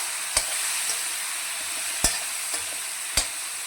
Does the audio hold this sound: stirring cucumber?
yes